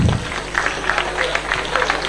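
Conference audience applauding in a hall, a steady patter of many hands clapping at moderate volume throughout, with a faint voice underneath.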